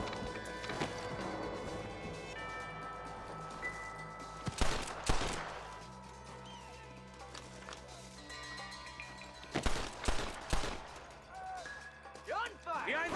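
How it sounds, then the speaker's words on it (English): Bursts of gunfire in Red Dead Redemption crack out around the 5- and 10-second marks over a busy game soundtrack with music and shouting voices. "Gunfire!"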